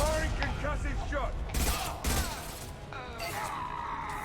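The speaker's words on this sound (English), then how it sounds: "Firing concussive shot!" Concussive shot and gunfire during a firefight in Mass Effect 2: bursts of rapid shots and mechanical clatter, then sharp heavier blasts, loud and close, with brief voices mixed in.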